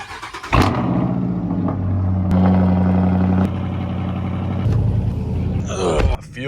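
Loud straight-piped Dodge Durango R/T engine, a deep steady rumble at idle with a brief rev, close by and continuous with a short dip near the end.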